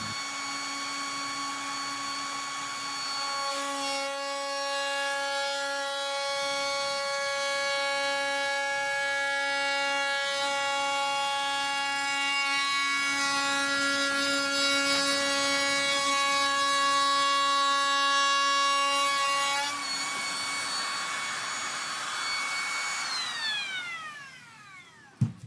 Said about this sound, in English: I'm going to use the 45-degree bevel bit just to remove the first amount of material